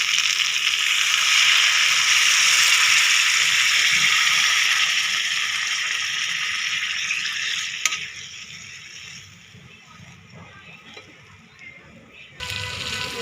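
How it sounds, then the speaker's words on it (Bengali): Hot water is poured into a pan of braised goat liver, a loud sizzling hiss that gradually dies down to a quiet simmer, with a clank near the end. "কষানো হয়ে গেছে, এখন গরম পানি দিয়ে জল দিয়ে দিই।"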